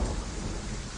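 A deep rumble of thunder over steady heavy rain, loud and close, filling the whole moment with a broad low roar.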